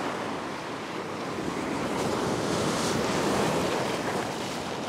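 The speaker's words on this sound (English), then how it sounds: "Here comes another little wave." Ocean waves wash against coastal fishing rocks in gusting wind, a continuous loud rush of surf and wind noise with no speech.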